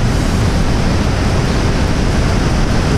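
Rushing water roars loud and continuous, a dense unbroken wash of noise with no pauses.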